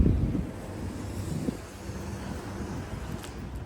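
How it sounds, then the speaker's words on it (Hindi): A hot summer wind blows outdoors in Canada, buffeting the microphone with a soft, low rumble that gusts at the start and then settles into a quieter steady rush. "लेकिन हवा चल रही है, लेकिन गर्म हवा है"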